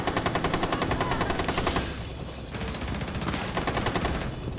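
Rapid automatic gunfire in Rainbow Six Siege rattles in fast, even bursts, with a short lull before the shooting resumes. The shots sound loud and close, and there is no talk.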